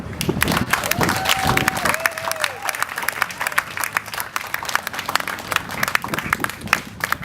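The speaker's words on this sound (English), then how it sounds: "Thank you for your kind applause" An audience at a veterans' appreciation Flag Day gathering at a Harley-Davidson dealership breaks into sustained, dense applause with some cheering, steady and fairly loud throughout.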